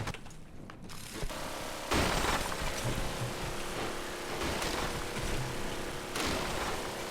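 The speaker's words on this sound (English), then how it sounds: "I do hear some of my fleet firing." Naval fleet guns firing in the game From the Depths, heard as a dense, continuous mechanical rattle and distant rumbling bursts that swell at a few moments, with no talk.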